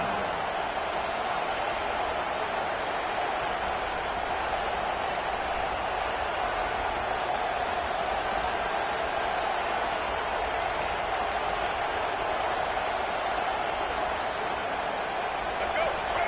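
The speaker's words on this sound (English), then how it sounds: "this crowd is turning it up a notch" Steady stadium crowd roar fills a late-game moment in an NCAA football video game, a dense continuous wash of cheering holding at even loudness throughout with faint whistle-like tones poking through and no break.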